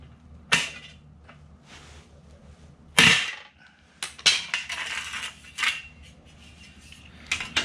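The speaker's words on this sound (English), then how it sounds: "I'm using a decent rivet gun that was a step up from the cheapest option." A hand rivet gun sets aluminum rivets while a sleeping extension is built for a 5-foot aluminum truck topper, giving several sharp, close metallic snaps spaced irregularly with quieter clicking and handling noise between them.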